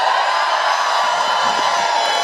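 A large crowd cheers at an Elbows Up rally in Halifax, a loud, constant wash of voices and whoops filling the whole moment without pause.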